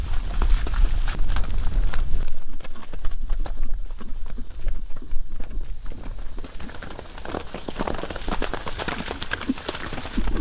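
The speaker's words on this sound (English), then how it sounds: "I want to really share the fun that my little horse is having with the other horses." Several horses move about together outdoors under a clouding sky, their hooves giving a busy, irregular clip-clop mixed with rustling and thudding that stays fairly loud throughout.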